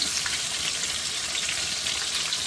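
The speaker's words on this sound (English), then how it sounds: "This is vegetable oil that I'm frying them in." Steady, dense sizzling of green tomatoes frying in hot vegetable oil, a continuous crackling hiss with no talking.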